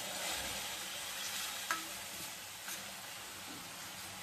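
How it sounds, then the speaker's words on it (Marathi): Chopped onion stirred and frying in a kadhai, a steady close sizzle with a couple of scraping stirs, alone without talk. "कांद्याचा कलर चेंज होईपर्यंत आपल्याला हलवत घ्यायचा आहे।"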